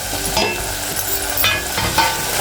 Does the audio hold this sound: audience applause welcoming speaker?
no